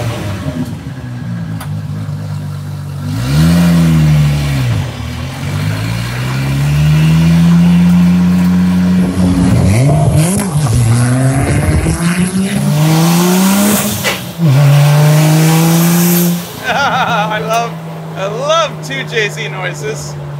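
2JZ-swapped Dodge Charger on wide tires revving hard, repeated loud climbing and falling engine sweeps with sharp pops and crackles, close and dominant throughout.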